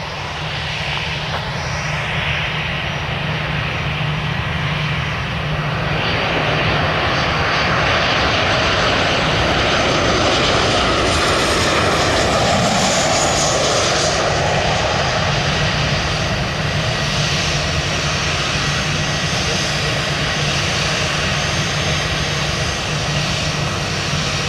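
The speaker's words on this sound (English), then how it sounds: "an EasyJet plane just turns around ready for takeoff" An EasyJet airliner turns near an airport for takeoff, its engines giving a loud, sustained roar that swells and shifts in pitch as the plane swings around, steady and without talk for about twenty-five seconds.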